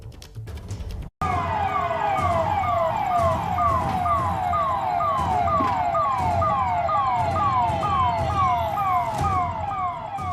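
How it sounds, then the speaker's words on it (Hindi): A police van siren wails loudly and steadily in a repeating up-and-down sweep over a busy street din during unrest in Rajasthan, after a brief cut at the start. "पुलिस का सायरन तेज है"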